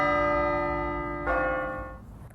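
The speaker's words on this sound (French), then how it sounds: "j'entends aussi les cloches de nos villages" Village church bells ring in sustained, overlapping tones, with a fresh strike swelling the sound partway through before it decays; no voices.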